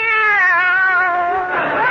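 A cat gives a single long, drawn-out meow, loud and close, as a radio comedy sound effect, with the tone wavering and breaking near the end.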